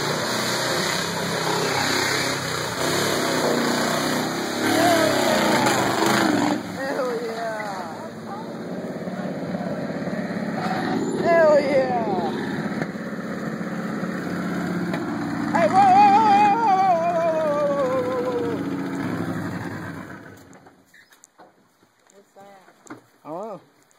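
A truck engine drones and revs loudly as it drives through a muddy rut, straining continuously before cutting off toward the end, while people shout and talk over it.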